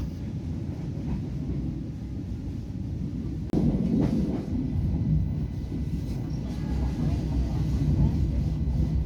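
Inside a local commuter train running from Pasuruan in East Java, a continuous low rumble and rolling noise with a brief bump partway through, steady and fairly close, with no clear talk.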